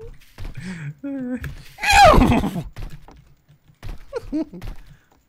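A horse in the game Garry's Mod neighs loudly in a single shrill whinny, set between short sounds like clip-clopping hooves and game effects, with people talking around it.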